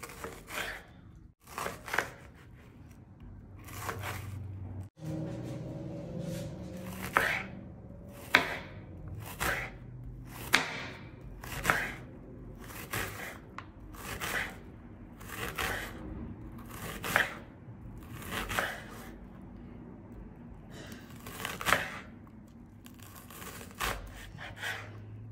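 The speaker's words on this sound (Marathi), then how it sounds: "तर हे बघा, इतका असा हा बारीक चिरायचा आहे, अगदी बारीक बारीक." Onion finely chopped with a knife on a board, producing a long run of quick, crisp, evenly spaced taps up close, with brief pauses and a couple of sharper knocks.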